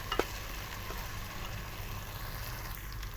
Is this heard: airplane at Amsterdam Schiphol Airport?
no